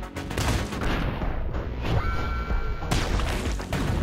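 Gunfire in the stylized action game Katana Zero: a dense flurry of sharp shots and crashing impacts over a constant driving background, loud and close, with a brief high tone in the middle.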